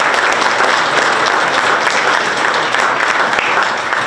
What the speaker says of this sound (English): And so again, I want another round of applause for them.